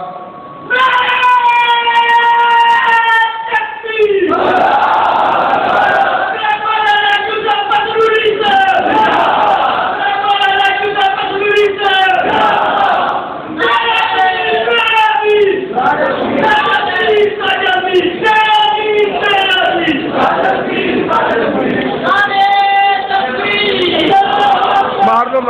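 A large crowd at a religious gathering chants slogans in loud, rhythmic call-and-response waves, voices rising and falling in repeated bursts across the whole stretch.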